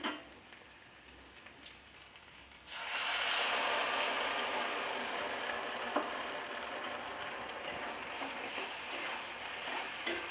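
Chili chicken fries in a pan after a sauce mixture is poured in, breaking into a loud, steady sizzle partway through that continues evenly, with no one talking.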